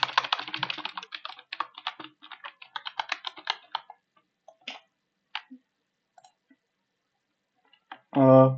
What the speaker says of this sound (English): And we type in letters.